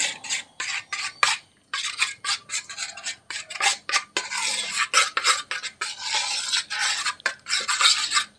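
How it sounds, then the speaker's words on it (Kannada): Ragi flour mixture is stirred by hand in a large vessel, making rapid, rhythmic scraping and clinking strokes close by that run in short bursts without pause for talk. "ನಾನಿಲ್ಲಿ ದೊಡ್ಡ ಪಾತ್ರೆನೇ ತೊಗೊಂಡಿದ್ದೀನಿ ಯಾಕಂದರೆ ಇದನ್ನ ಮತ್ತೆ ಕುದ್ಸೋಕೆ ಇಡೋಕ್ಕೆ ಇದೆ ಅಲ್ಲ ಅದಕ್ಕೋಸ್ಕರ ಇದರಲ್ಲೇ ಕಲಿಸ್ಕೊತಾ ಇದ್ದೀನಿ"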